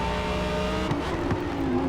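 An Audi race car in Forza Motorsport drones at high revs, its engine loud and close with a steady harmonic whine, brief tire scrubs and small pitch changes mid-run, with no one speaking.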